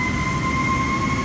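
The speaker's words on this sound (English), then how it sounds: "Someone's decided to spawn on stand with their engines running right next to me." Aircraft engines run on a nearby stand in Microsoft Flight Simulator 2024, a loud steady jet whine with two sustained tones over a broad roaring rumble.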